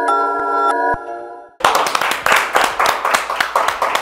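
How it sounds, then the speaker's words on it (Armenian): A sustained chiming tone rings for about a second and a half, then hands clap in a quick, steady rhythm of a dozen or so sharp, close claps. "Ծափ արում եմ"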